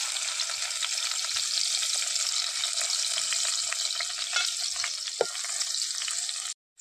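Onion frying in oil in a pot as the base for a Malvani fish curry, a steady close crackling sizzle with occasional sharper pops, cutting off abruptly at the end.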